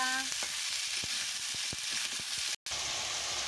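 Vegetables and potatoes fry and are stirred in a pan for spinach chorchori, a steady soft sizzle with faint scraping stirs and a brief gap near the end.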